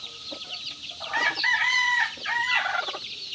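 Chickens cluck and a rooster crows loudly and close by in a backyard flock of oriental, hulo and asil-cross fowl, with hens noisy around a laying spot, the crowing swelling twice over steady clucking.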